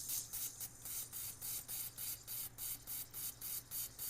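Cleaning tool spraying through the fuel injector of a 2024 Lifan KPX 250 motorcycle, producing a rapid series of short, even hissing spray bursts, about three per second, close and clear.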